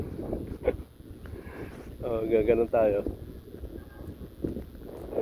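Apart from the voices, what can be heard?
wind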